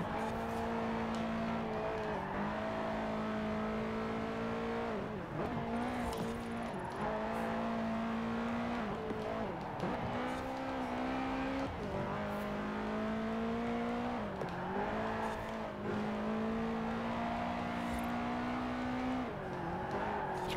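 Subaru engine in the driving game Forza Horizon 4, droning steadily through the whole stretch with repeated gear changes and revs that dip and climb every few seconds, loud and close without any talking.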